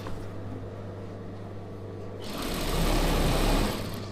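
An Usha sewing machine stitches a star-neck chudidhar: a low motor hum at first, then the needle kicks into a louder, faster, steady rattle that holds close up before easing slightly.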